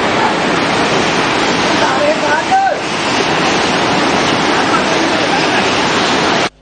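A flooded Maui river after heavy early-morning rainfall rushes in a loud, steady roar of churning water that runs unbroken and alone before cutting off abruptly.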